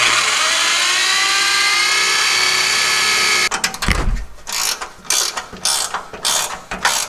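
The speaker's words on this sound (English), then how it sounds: "Alright, got the holes drilled" Holes being drilled into a vehicle frame to mount M416 trailer stabilizers: a sustained high whining drill for a few seconds, then choppy, intermittent grinding and clanking bursts as the bit works through the metal.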